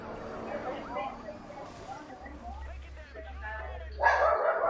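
A dog barks and yips in the Las Vegas streets of the racing game Need for Speed The Run, a few quick barks and a whimper heard amid game sounds and a low engine hum, with no speech.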